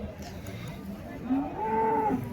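A native draft bull lows at the Uthangarai cattle market, a single drawn-out, rising moo over a steady crowd murmur.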